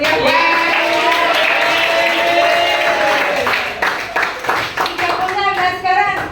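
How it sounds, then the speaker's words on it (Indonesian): Schoolchildren in a classroom clapping together, a lively burst of hand claps that thins into scattered claps, mixed with a teacher's voice and children talking. "Ayo kita berikan tepuk tangan yang meriah."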